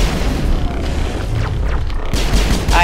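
Combat in Mass Effect against Geth: loud booming explosions mixed with rapid bursts of weapon fire, dense and close over under three seconds, ending in a sharp fresh blast.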